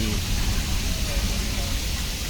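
Water carrying stinging catfish fry pours out of a pipe at a fish farm, making a continuous, even rushing hiss at moderate level with no break.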